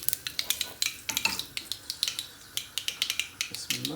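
Onions and spices crackle and snap in a hot pan for an aubergine bhajee, a quick irregular run of sharp pops close by and fairly quiet, with no talking.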